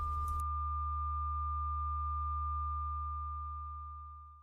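A steady pure sine-wave test tone from an active crossover holds one unchanging pitch throughout, loud and alone, with a brief noisy burst at the very start.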